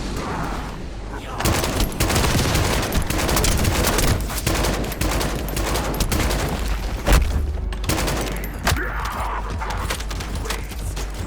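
Rapid gunfire from the online shooter game The First Descendant, dense volleys and bursts running almost continuously and loudly for several seconds, with a few heavier booms mixed in.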